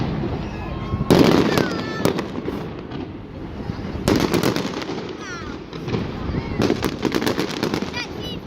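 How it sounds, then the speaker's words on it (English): Fireworks display over Liverpool for a Disney cruise ship, with repeated sharp bursts and crackling pops in several clusters, moderately distant, while spectators call out and talk in the background. "Let's see fireworks at South Severn."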